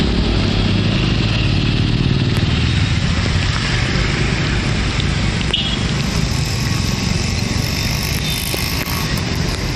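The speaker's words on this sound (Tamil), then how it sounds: "பல்வேறு பகுதிகளில் மழை பெய்தது." Heavy rain in Chennai with vehicles on the road, a dense continuous hiss of downpour mixed with a low rumble of engines and traffic, loud and unbroken throughout.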